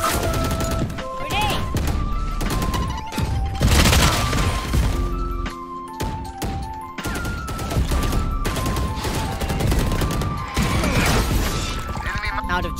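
Grenade blasts and rapid gunfire in the tactical shooter Valorant, dense bursts of shots, sharp bangs and metallic clatter continuing throughout, loud and close, with game voice chat and tonal interface sounds mixed in.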